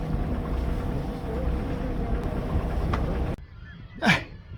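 Steady broadband engine rumble and wind noise aboard a motor sailboat, loud and continuous, then cutting out abruptly to quieter ambience with a brief swooshing sound.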